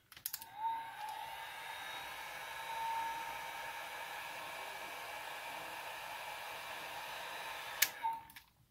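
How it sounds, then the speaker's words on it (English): A hair dryer blows steadily for several seconds with a constant airy whoosh, switching on and off with brief clicks at each end, drying alcohol ink. "Then I'll use my dryer."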